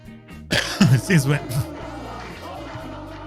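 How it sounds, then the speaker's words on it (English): A person coughs several times in quick succession straight into a close microphone, producing loud, abrupt bursts, then goes quiet with a faint background hum. "Sorry, I coughed into the microphone."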